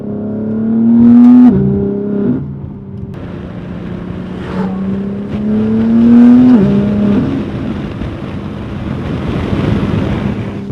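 A fast, loud car heard from inside with the windows up revs hard through turns, its engine note rising and dropping sharply several times over steady road and wind roar.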